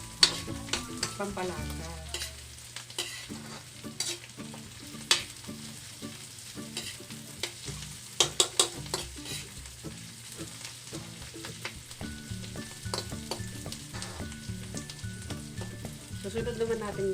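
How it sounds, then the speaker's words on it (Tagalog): Shrimp curry with celery being stirred and fried in a pan, giving steady sizzling with scraping utensil strokes against the pan, and a voice briefly speaking over it. "Haluin ulit. Lutuin ng kaunti."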